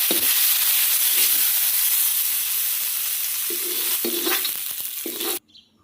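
Peanuts fry lightly with salt in a hot pan, giving a loud, continuous sizzling hiss with a few soft scraping stirs, ending abruptly.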